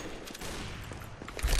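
Pistol gunfire in Counter-Strike: Global Offensive sounds as a few quick, fairly faint shots amid game ambience, with a louder burst near the end; no talking.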